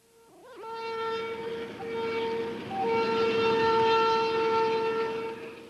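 A train creeping past floodwaters beside a normally small creek in Kimmswick, Missouri, its long tonal horn or wheel squeal swelling and holding over a low rumble, moderately distant and steady, no talk.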